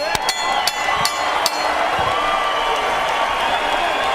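Dense crowd cheering and applause at a boxing match as a fight between Giovanni Lorenzo and Raul Marquez ends, a sustained roar with sharp clicks and bangs scattered through it, with an announcer's voice faintly underneath.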